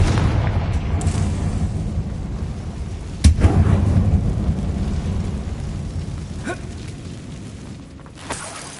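A Confringo spell explosion in Hogwarts Legacy lands as a sharp boom a few seconds in over a low rumbling game ambience, followed by softer debris crackles and a smaller thud near the end.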